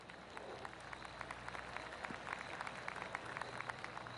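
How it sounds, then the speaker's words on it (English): A golf crowd in the PGA Tour 2K25 video game gives soft, scattered applause, a steady patter of distant clapping running for several seconds at low volume. "Oh, golf clap."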